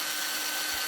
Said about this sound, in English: Next, we're going to drill out the bottom in order to have some drainage holes there.